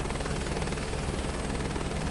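Helicopter flying in Microsoft Flight Simulator 2024, a constant loud rotor and turbine roar with steady thudding blade chop filling the whole moment, no voices.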